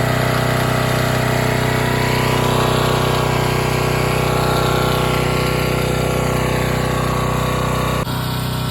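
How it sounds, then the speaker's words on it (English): A small portable generator, brought along for Florida hurricane preparations, drones loudly and steadily at close range with a constant engine hum, then a brief click near the end; nobody speaks. "as you can hear behind me, a very loud generator"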